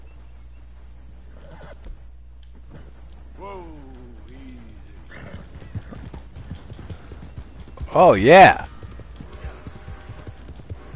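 Horse hooves clip-clop in Red Dead Redemption 2, in short bursts over a low game ambience, with a brief loud whinny near the end and someone talking in between.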